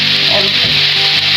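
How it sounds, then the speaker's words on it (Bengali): Broiler chicken fries in oil with onion, bay leaf and salt, a loud, close, steady sizzle with faint stirring scrapes through a short stretch and no talking. "এখন আমি মুরগিটা দিয়ে দিব। মুরগিটা দিয়ে ভেজে নিব"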